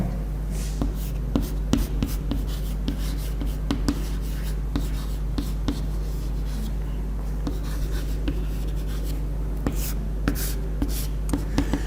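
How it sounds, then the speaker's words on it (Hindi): Writing on a board during a Hindi-language history lecture on medieval India: a steady run of short tapping and scratching strokes over a constant low room hum, close and moderately loud, with no speech. "यहां पे मैं लिख दे रहा हूं"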